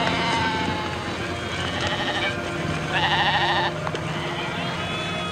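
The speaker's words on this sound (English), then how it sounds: "when they get to the slaughterhouse, he ducks to one side and the silly sheep go in to get their throats cut" Sheep herded toward a slaughterhouse bleat repeatedly, several overlapping wavering cries rising and falling over a busy background, the loudest calls coming in the middle.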